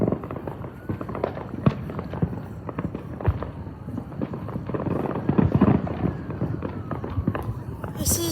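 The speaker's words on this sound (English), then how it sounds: "That was another Roman candle." Roman candle fireworks at a Fourth of July celebration, a long run of irregular sharp pops and bangs of varying loudness with crackle and echo, dense throughout and busiest near the middle.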